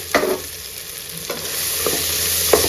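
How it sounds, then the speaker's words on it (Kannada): Cluster beans are tipped into a hot pan and stir-fried, giving a steady bright sizzle broken by a few soft knocks and scrapes of the stirring spoon, with no voices. "ನಾನಿಲ್ಲಿ ಗೋರಿಕಾಯಿ ಸೇರಿಸ್ಕೊಳ್ತಾ ಇದ್ದೀನಿ."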